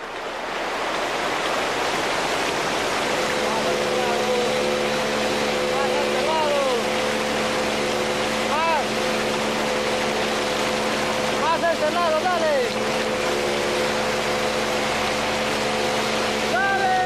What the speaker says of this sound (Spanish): No separen sus ojos del motor de la canoa.